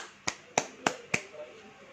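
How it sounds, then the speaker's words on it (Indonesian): Four crisp, evenly spaced hand claps from a church congregation, sharp and close, with a faint murmur in the gaps and no speech over them. "Tepuk tangan."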